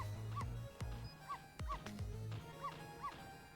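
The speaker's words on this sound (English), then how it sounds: "No, Missile, you're not supposed to bark." Small dog barking in the Ghost Trick video game, several short yipping barks and whimpers spaced irregularly over game sounds, fairly faint.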